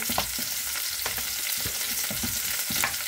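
Marinated pork belly is stirred in a hot pan, with a steady loud sizzle and the repeated scrape and clack of a utensil at an irregular rhythm, close up and without voices.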